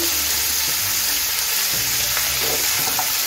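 Potato and pumpkin pieces with salt and turmeric frying in a pan, a loud, dense, continuous sizzle with faint scraping of stirring throughout, no talk.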